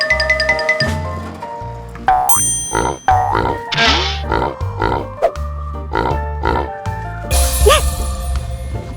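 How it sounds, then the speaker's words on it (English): A busy mix of cartoon-style sound effects and music from an animal toy educational show about farm animals, with boings, chimes and pig oinks and grunts, fairly loud throughout. "I see a pig coming."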